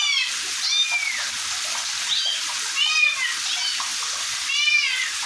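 Several kittens swimming in water give repeated high, thin meows, one coming every second or two over a steady wash of splashing water nearby.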